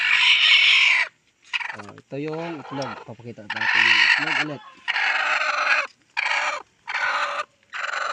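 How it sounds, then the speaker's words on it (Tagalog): Chickens cluck and squawk close by in short bursts, with a person talking over them at times. "Ayan yung manok natin oh."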